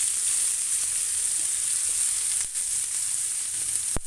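Sliced medium onions sizzling on a hot griddle over a low flame, a soft steady hiss with one sharp clink near the end, no voices.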